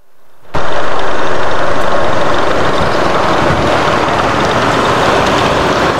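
A van's engine runs near Surat Thani railway station, starting after a brief quiet moment and then holding a loud, steady rumbling drone to the end, with no one speaking.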